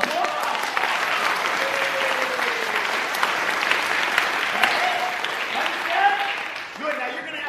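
Audience applause during a Holly Follies stage show at Dickens' Christmas in Skaneateles, steady crowd clapping that carries through the whole stretch, with people talking and exclaiming over it.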